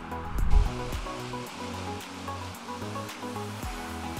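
Waves wash steadily onto the Lake Michigan shore, heard as a continuous broad rushing surf at moderate loudness, with a brief low thump near the start and no speech.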